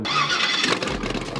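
An LS-swapped car engine firing up for the first time, a loud close cranking whine that catches into a rough rumbling idle over about a second and a half, with a single short word spoken.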